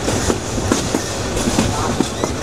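Passenger train running through tea-garden country in Bangladesh, a steady rumbling roll with faint rhythmic clicks of wheels over rail joints, close and continuous throughout.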